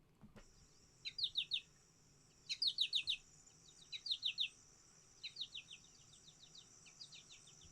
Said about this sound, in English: the potato chip call, that's not actually the song of the goldfinch. It's actually what we call a contact call or a companion call